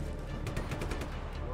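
Rapid gunfire from the video game Just Cause 3 rattles in a quick burst of shots amid game noise and a speaking voice.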